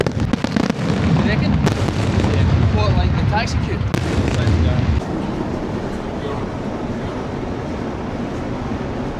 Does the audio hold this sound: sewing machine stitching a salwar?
no